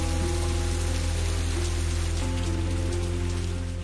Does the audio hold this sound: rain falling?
yes